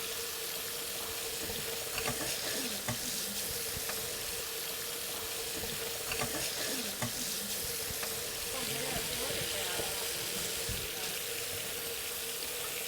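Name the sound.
salmon searing in a pan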